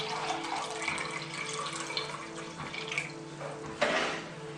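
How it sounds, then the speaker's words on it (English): Water poured into a container of cucumber seeds, a steady close splashing and running flow that swells with a louder gush near the end, with no voices. "Then you just want to add some water to it."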